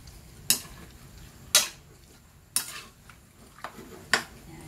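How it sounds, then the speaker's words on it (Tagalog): Seasoned chicken pieces for tinolang manok being stirred in a cooking pan, with five separate scraping, clinking strokes of a utensil against the pan spaced about a second apart over a faint background sizzle. "Haluin natin."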